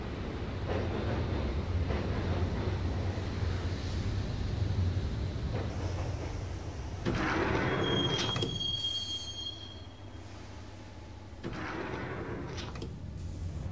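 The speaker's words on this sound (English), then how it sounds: "the train doors had already shut behind me, and I was in for the ride" Steady rumble of a moving train in the video game Max Payne with squealing wheels, a brief thump of the train doors shutting partway through, then continued rolling noise.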